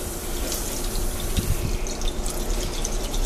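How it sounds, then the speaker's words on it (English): Warm water runs steadily from a tap into a container while homemade laundry detergent is mixed, a continuous splashing rush with slight gurgles as the flow is turned down, heard alone. "so I'm going to turn the water pressure down a little bit."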